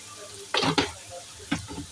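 Garlic frying in hot oil in a pan for chili chicken, a quiet background sizzle punctuated by two or three short bursts of scraping and stirring, close by.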